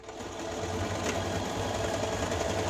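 A sewing machine runs a continuous seam down a cap panel, a steady close mechanical whir and rapid needle chatter holding at even volume throughout with no talk.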